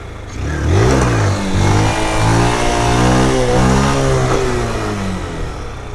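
Honda Fan 160 motorcycle from 2023 revving up loudly during a wheelie, the engine pitch climbing and holding in a strong sustained whine before easing off, close and alone.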